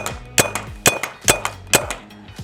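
A paintball marker fires paintballs in a rapid series of about five sharp, loud pops, each followed by a short ringing clang, evenly spaced and close with no talk.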